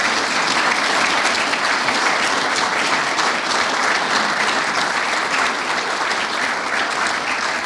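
A seated audience claps warmly to welcome Heather Cook, CEO of the Australian Criminal Intelligence Commission, before her evening talk. The applause is dense, sustained and loud, with no voices over it.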